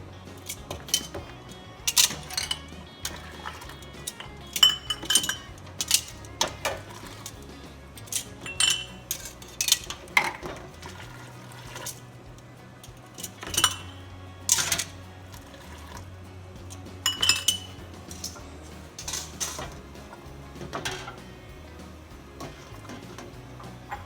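Sharp clinks and taps of glass jelly jars knocking together in a dish pan with boiling water in the bottom, scattered and intermittent over a faint low background hum.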